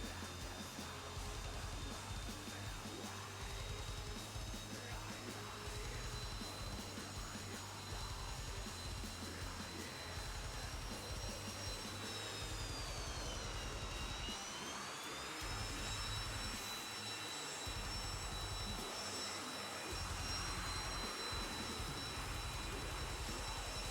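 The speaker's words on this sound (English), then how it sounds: "I'm using the thrust reversal to get into a start position." Jet engine of a Saab AJS 37 Viggen in the DCS flight simulator, running in thrust reversal on a runway: a steady, loud, continuous roar with a whining tone that dips and rises midway, heard alone.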